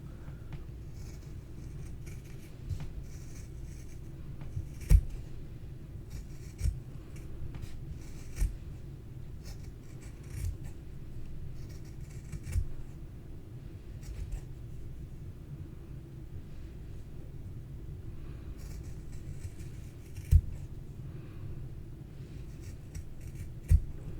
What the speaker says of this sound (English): now I'm going to take this and cut a circle out of it